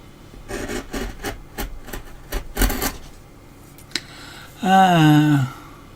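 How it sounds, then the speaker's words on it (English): A chisel judders through close-grained wood while carving a dragon, giving a run of sharp, rasping scrapes and knocks, close and distinct, followed by a brief squealing whine near the end. "It's got like a juddering sound, and that's the chisel going from ring to ring to ring as I do it"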